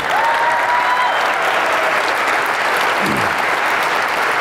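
Sustained audience applause at a keynote event, a steady dense wash of clapping at constant loudness throughout, with a brief tonal whistle-like sound near the start and no speech.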